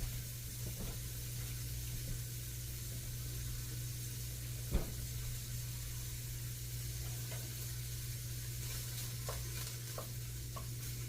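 Johnsonville smoked brats browning in a lightly oiled pan produce a faint, even sizzling hiss over a low steady hum, with a few soft pops and one clink.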